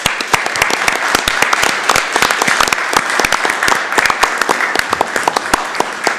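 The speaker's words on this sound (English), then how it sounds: "Round of applause, please, for John." Loud, close applause from a council meeting audience honoring a retiring politician, dense rapid clapping that holds steady throughout with no voices over it.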